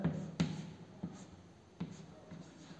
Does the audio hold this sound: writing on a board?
yes